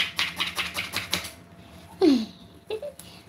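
A knife chops food on a board in a quick run of crisp, evenly spaced taps, followed by a short voice and a couple of stray knocks, close and clear.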